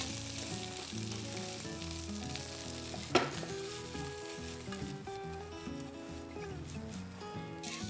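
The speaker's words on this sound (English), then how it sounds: "Let the potatoes cook for 2 minutes." Five boiled, diced potatoes fry in a pan with chopped green chilies, giving a steady close sizzle with occasional stirring scrapes and one sharp clank partway through.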